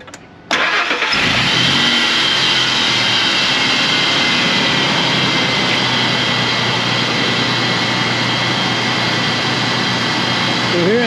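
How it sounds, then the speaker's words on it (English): A vehicle engine cranks and fires during a battery cranking test with a 12V load tester, quiet at first, then a sudden catch into a loud, steady idle that runs on close by. "Now we have to start the engine."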